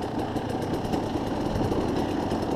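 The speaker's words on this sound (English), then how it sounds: "It seems like my idle's high all of a sudden, so watch out for that." A KTM enduro dirt bike, a 300 or 250, idles steadily with its idle running high, a continuous close buzzing drone with fast rhythmic pulsing and no voices.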